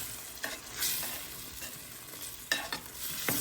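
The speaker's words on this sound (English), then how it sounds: "So we're going to pour in about a cup at a time and stir it in." Wine and beef bouillon being stirred into onions cooking in a pan for a French onion chicken casserole, with a steady low sizzle and a few soft scraping strokes, no talking.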